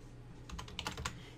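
Quick burst of typing on a computer keyboard, several light clicking keystrokes close by in a quiet room, no speech.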